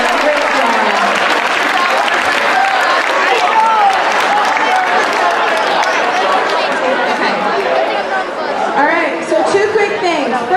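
Sustained applause from a school audience at a freshman awards assembly, steady dense clapping mixed with crowd chatter and cheering voices throughout, loud and continuous.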